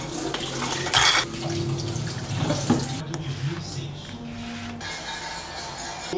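Tap water runs steadily into a sink while hands are washed with soap, a continuous splashing wash with household noise around it.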